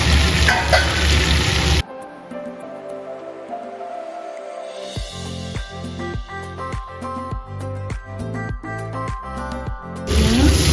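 Local chicken with potatoes frying in a pan, a loud hissing sizzle at the start and end, with quieter stirring and rhythmic knocking or clattering in between.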